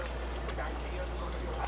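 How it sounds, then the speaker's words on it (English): Beef stroganoff gravy boiling hard in a cast iron pan, a steady bubbling and sputtering hiss that stays even and close throughout. "that's boiling pretty good."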